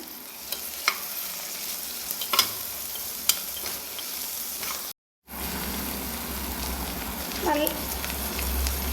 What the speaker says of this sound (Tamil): பீட்ரூட்டு வெங்காயம் பெரிய வெங்காயம் சேர்த்து வதக்கிங்க